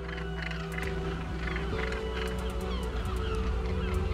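Seabird colony nesting on the steep sandstone cliffs of Lumen in northwest Heligoland, a bird sanctuary, with many goose-like honking calls overlapping continuously over a steady low background rumble.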